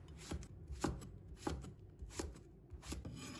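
A knife cuts eggplant into small strips on a cutting board, about seven crisp, quiet chops spaced in an uneven rhythm.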